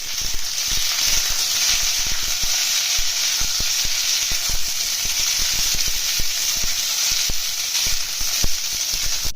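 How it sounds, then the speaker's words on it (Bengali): Ridge gourd fries in a pan with green chilli, making a loud, continuous close-up hiss and sizzle with frequent faint ticks and crackles throughout and no talking. "ঝিঙেটা সেদ্ধ হওয়া অবধি ভেজে নেবো"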